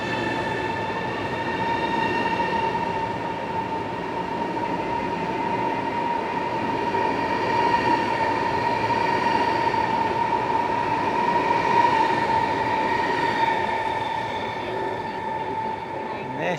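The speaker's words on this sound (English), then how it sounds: "The train has arrived at Qfu railway station." A high-speed bullet train rumbles steadily through Qufu station in China with a sustained metallic hum and whine, its wheels rolling continuously without a break.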